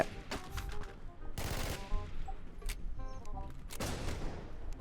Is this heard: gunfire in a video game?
yes